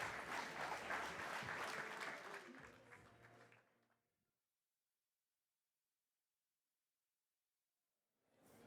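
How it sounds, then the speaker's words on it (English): A conference audience applauds loudly for a few seconds, then the clapping fades out into silence before a faint sound returns at the end. "Round of applause, please."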